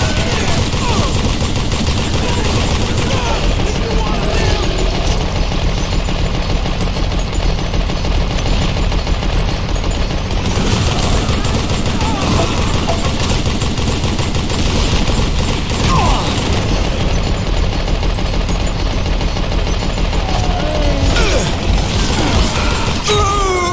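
Machine gun fire in the Call of Juarez: Gunslinger game, long loud bursts of rapid shots with crashes and shattering, running almost continuously with short lulls, while someone talks over it in places.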